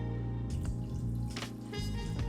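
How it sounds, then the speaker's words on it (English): Water poured into a pot over a seasoned corned beef brisket, a soft splashing and trickling that starts after a moment and runs steadily, close and quiet over a low background hum. "Now I'm gonna pour water to cover the whole breast"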